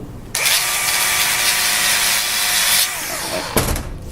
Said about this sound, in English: I'll just do a quick grind and test it for carbon.